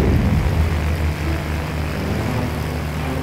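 Propeller aircraft engine drones steadily overhead with a low rumbling hum, loud and continuous, slightly stronger at the start.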